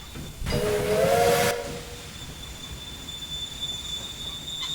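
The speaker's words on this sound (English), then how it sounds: "There goes my freight train." A freight train departing in the video game Train Empire blows a loud steam whistle for about a second over a rush of hissing steam, then fades into a low, steady rail rumble.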